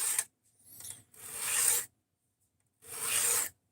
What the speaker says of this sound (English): here we are with the freehand sharpening